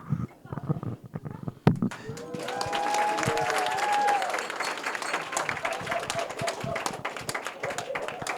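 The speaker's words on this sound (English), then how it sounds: "I'm glad you're clapping now" Wedding guests break into sustained, steady applause during the speeches, dense and close, following a few scattered sounds at the start, with some voices mixed into the clapping.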